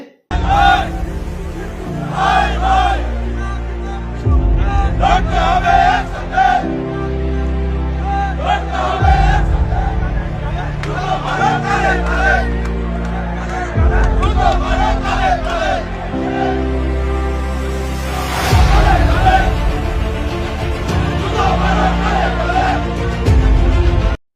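A street crowd chants slogans in loud, rhythmic bursts that repeat in waves, with voices blending into a dense roar.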